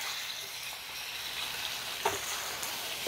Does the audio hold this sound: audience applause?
no